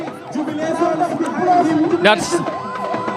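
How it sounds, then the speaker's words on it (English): A crowd greets a Gambian arriving under police escort, a dense swell of cheering and excited chatter with shouting voices that rises and falls throughout, a brief sharper burst of noise cutting through near the middle. "As you can hear, everybody's happy. They are cheering up."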